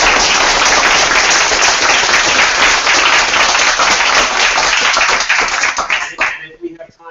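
Sustained audience applause at an international policy awards event, loud and dense clapping that holds steady for about six seconds before tapering off quickly at the end.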